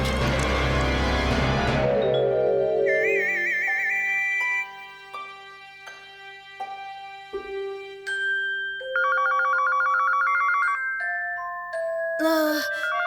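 A telephone rings with electronic tones and melodic beeps, after a loud musical swell, fairly close in a quiet room, in a Horrid Henry cartoon.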